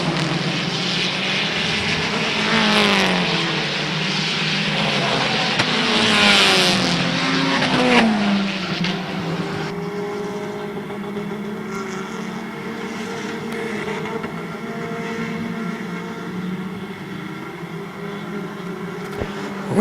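Compact race cars roar around a speedway at the start of a 40-lap race. Loud, overlapping engines rise and fall as several cars pass close by, then settle into a sustained, slightly more distant drone.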